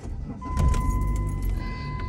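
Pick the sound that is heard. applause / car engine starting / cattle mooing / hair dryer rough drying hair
car engine starting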